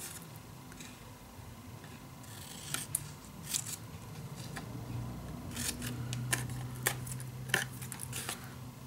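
Scissors snip an L shape out of paper or card for a desk storage box craft, a close run of crisp irregular cuts that quicken toward the end, with no talking.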